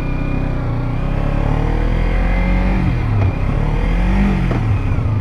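A Kawasaki Ninja motorcycle engine revs steadily while being ridden off-road, then drops into neutral with the pitch sliding and wavering, loud and close throughout.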